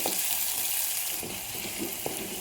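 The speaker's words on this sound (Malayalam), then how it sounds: "ബാക്കി പകുതി കൂടെ ഇട്ട് കൊടുത്ത് നന്നായി വഴറ്റിയെടുക്കുന്നുണ്ട്" Shallots and curry leaves sautéing in a pan for a Kerala coconut avoli fish curry: a dense, hissing sizzle throughout, with a few faint stirring scrapes underneath.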